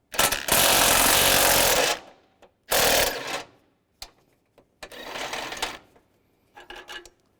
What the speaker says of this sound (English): Use a 15mm socket, take this bolt out